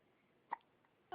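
A baby hiccups, two short, quiet, close hiccups spaced about half a second apart in an otherwise hushed room.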